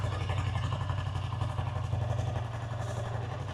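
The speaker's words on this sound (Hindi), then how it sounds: "आइडियल कंडीशन पर इंजन साउंड सुनिएगा" Royal Enfield 350 motorcycle idling steadily up close, a low, even thumping exhaust note holding for a few seconds with no voices over it.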